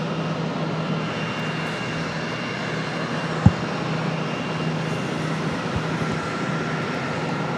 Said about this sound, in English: We've got an American coming in from Savannah, American Airlines 1011.